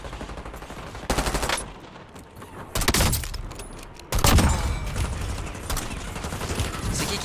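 Gunfire in the video game Warzone comes in loud bursts of rapid automatic shots, several separate volleys with brief quieter gaps, sustained firing toward the end.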